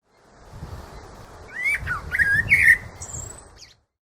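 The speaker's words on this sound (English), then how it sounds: "B is for blackbird" A blackbird sings a short, bright phrase of whistled, warbling notes over a soft background hiss, the song swelling in the middle and trailing off near the end.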